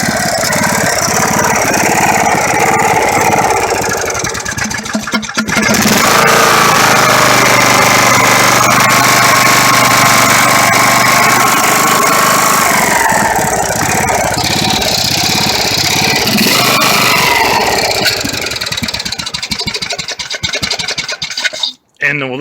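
A Poulan lawn tractor engine, salvaged from a scrap yard, runs loud and close with a steady mechanical drone and a faint whine from a loose starter shield; it cuts off abruptly near the end.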